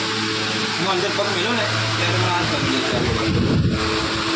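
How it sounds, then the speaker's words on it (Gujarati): A new Seema electric fan runs with a steady airy whoosh and hum, while someone talks over it close to the microphone. "આજે અમે નવો પંખો લાવી દીધો મસ્ત મજાનો ભાવે એટલું સરસ હવા આવે છે જબરજસ્ત"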